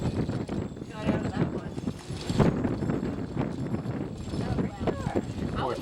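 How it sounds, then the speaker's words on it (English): Donkeys carrying riders downhill clip-clop in a steady stream of hoof beats, close by, with wind buffeting the microphone and people talking over it. "There's the people coming down on the donkeys."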